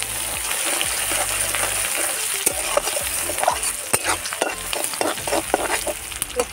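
Two large chopped onions fry with bay leaf in a pan, sizzling loudly and steadily close up, with intermittent scraping and stirring clatter over the hiss.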